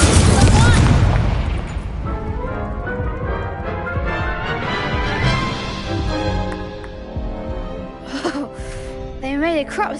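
An Incendio fire spell bursts in Hogwarts Legacy with a loud opening boom and whoosh, fading into rumbling game effects and music, with brief voice sounds near the end.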